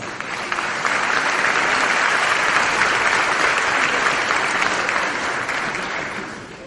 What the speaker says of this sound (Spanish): Recibámoslo con un caluroso aplauso